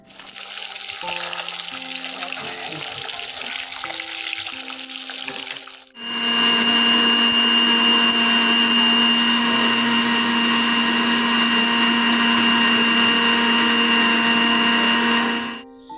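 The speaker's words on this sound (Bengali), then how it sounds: "সামান্য জল দিয়ে পেস্ট করে নিচ্ছি যাতে স্মুথ হয়" A quieter stretch of kitchen noise, then a blender grinding spices with a little water into a paste starts up and whirs loudly and steadily for about ten seconds before cutting off.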